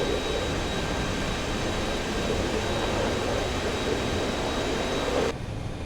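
A single-seat F/A-18C fighter jet carrying two external fuel tanks, flying over the Strait of Hormuz, gives a steady, dense engine roar that holds evenly throughout, loud and unbroken, with no one talking.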